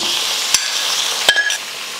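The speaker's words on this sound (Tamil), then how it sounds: "இப்போ இதில் சிக்கன் சேர்த்துடலாம். 1/2 கிலோ சிக்கன்." Half a kilo of chicken goes into a pan of sautéed onions and sizzles steadily and loudly, with a couple of sharp clatters of a spoon stirring against the pan.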